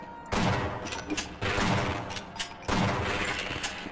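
Three loud, close shotgun blasts from a Half-Life game in an office complex, each a sharp crack followed by a short ringing decay, spaced about a second apart.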